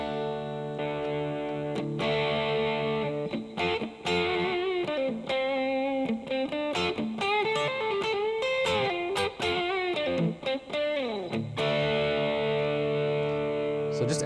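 Electric guitar played through an Ibanez TS808 overdrive pedal, a steady stream of crunchy, slightly broken-up chords and single notes that stays loud throughout, with a brief pause near the end before it picks back up.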